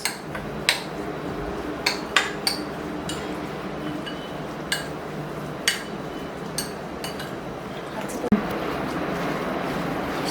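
A spoon mixes crumbled chhena with a little ghee in a bowl, giving irregular light clinks and taps against the bowl over a soft steady background, with no talking.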